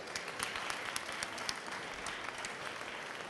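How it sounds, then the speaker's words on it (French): An audience applauds the creator of a trophy at the Écaille d'Or 2013 ceremony, with steady, dense clapping that holds fairly evenly for the full few seconds and no speech over it. "Je crois que ça mérite un applaudissement pour monsieur le créateur."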